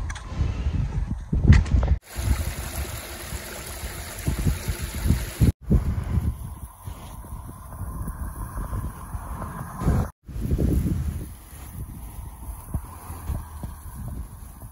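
Strong gusts buffet the microphone with loud, rumbling bursts that rise and fall unevenly, briefly cutting out between blasts.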